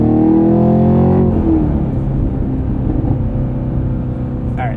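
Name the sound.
2023 Chevrolet Camaro SS 1LE manual driving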